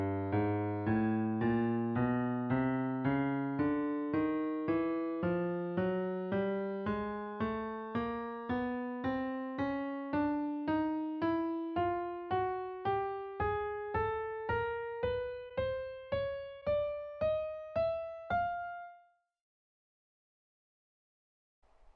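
A single instrument plays a steady ascending scale of separate notes, each note struck and decaying in turn, climbing from G in the bass clef up to F in the treble clef, even in rhythm and close, ending in silence.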